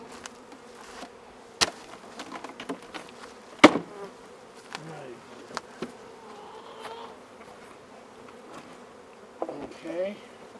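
Honey bees around a hive while a caged queen is installed, a faint buzzing hum under scattered handling knocks and clicks, with brief quiet talk nearby.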